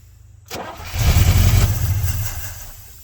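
Cold 1967 Chevrolet C50 truck engine cranking briefly then catching, rising into a loud rough low rumble before easing off, close by with no talking.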